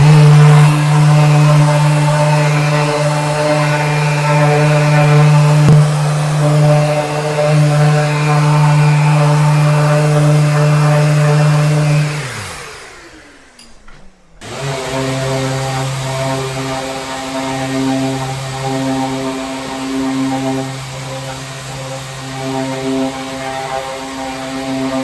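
A Mirka Deros II 750 175 mm orbital sander works across a room, a loud steady electric whine that cuts out briefly and then starts again, running alone with no talk.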